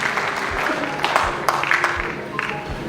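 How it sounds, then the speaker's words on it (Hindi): An audience at a Congress party event honoring Maulana Abul Kalam Azad's birth anniversary claps steadily, a sustained wash of applause with scattered louder claps throughout. "एक जोरदार ताली बजाएं"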